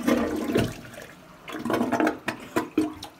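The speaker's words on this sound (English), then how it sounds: "So we're gonna flush him down the toilet." A toilet flushes nearby, a loud rushing whoosh of water that swells, ebbs and surges again in short bursts over a few seconds, with no voices.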